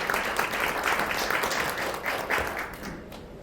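An audience at a retail and commercial safety and security workshop gives sustained applause, a dense wash of many hands clapping at fairly even loudness before it tapers off slightly at the end.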